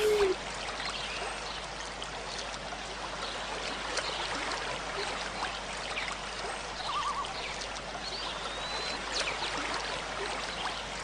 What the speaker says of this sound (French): Voici à présent le jet d'eau envoyé directement depuis le tuyau